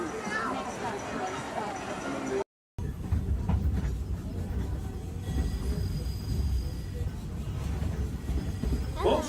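Walt Disney World railroad train pulling into Toontown Depot, a low rumbling roll with faint clatter under a voice announcing over the speakers, after a brief cut to silence.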